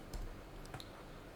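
A few quiet, scattered keystrokes on a computer keyboard while Python code is written, light isolated clicks over a soft background hiss.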